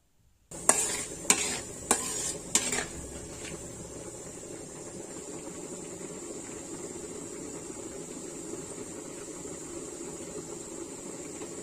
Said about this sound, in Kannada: ಇದಕ್ಕೆ ಸಾಸಿವೆ, ಜೀರಿಗೆ, ಕಡಲೆಬೇಳೆ, ಉದ್ದಿನಬೇಳೆ ಹಾಕೋಣ. ಈಗ ಇದೆಲ್ಲ ಚೆನ್ನಾಗಿ ಫ್ರೈ ಆಗಬೇಕು.